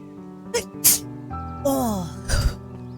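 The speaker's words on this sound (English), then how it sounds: "I gotta sneeze." An in-game character sneezes in the video game Beacon Pines, a sharp nasal burst after a short build-up, followed by voiced game dialogue and a second breathy burst over faint background music.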